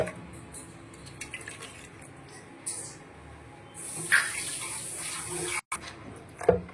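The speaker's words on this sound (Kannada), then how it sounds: "ಸ್ವಲ್ಪ ನೀರು ಸೇರಿಸ್ತಾ ಇದ್ದೇನೆ" Water trickles and splashes from a tap or pouring vessel into a sardine curry masala mixture, with soft intermittent pours and splashes and a few louder bursts toward the end.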